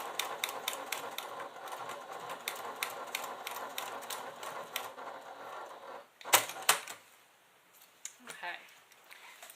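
A sewing machine top stitches a clutch bag with Tex 45 thread, a size 90-14 needle and a Teflon foot, giving a quick rhythmic mechanical clatter that stops, followed by a few louder clunks and handling clicks.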